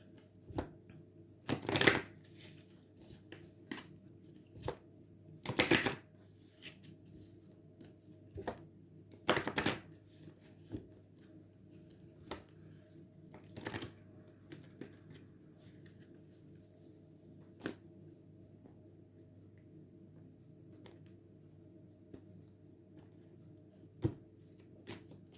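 Tarot cards being shuffled for a reading, a handful of crisp riffling bursts spaced apart by quiet stretches, close and fairly soft with no talking.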